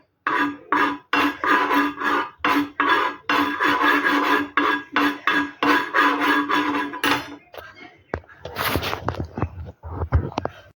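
Turmeric dry-roasting in a pan, stirred with steady rhythmic scraping strokes for about seven seconds, followed by a few sharper clinks and rustles. The sound is close and fairly loud.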